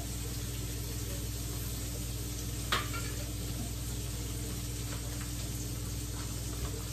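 A piece of ginger goes into a hot pan that already holds garlic, for Jamaican brown stewed fish, and it hisses in a steady, faint sizzle with a brief sharp crackle partway through and no voice.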